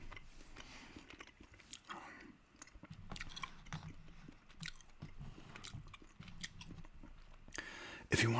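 Gum is chewed close to the microphone with soft, wet smacking and clicking bites repeating irregularly, along with faint clicks of Game Boy and Game Boy Color cartridges being handled, quiet and intimate with no talk.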